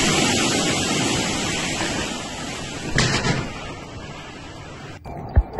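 Heavy wind and rain roar steadily during a storm in Moscow, a dense broadband rush with a louder gust near the middle, cutting off abruptly near the end before a brief sharp knock.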